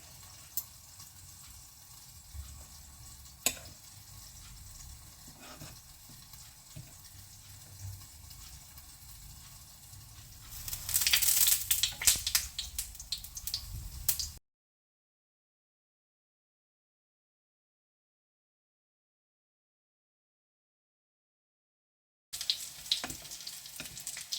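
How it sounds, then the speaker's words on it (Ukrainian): Batter-dipped eggplant medallions with minced meat frying in a covered pan over low heat, a soft steady sizzle with a louder burst of splashing or tap water midway, then silence before the sizzle returns. "накриваємо кришечкою і на невеличкому огні хай смажиться"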